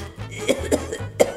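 Three or four short, sharp coughs from one person, close and fairly loud, spaced unevenly over about a second with a low hum underneath.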